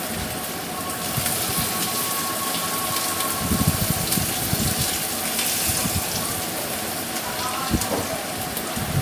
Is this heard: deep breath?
no